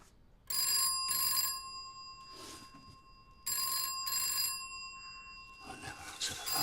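An old-fashioned telephone bell rings in repeated double bursts, loud and near, separated by brief pauses and a little background noise.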